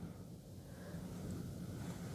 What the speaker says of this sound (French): Et la force du vent.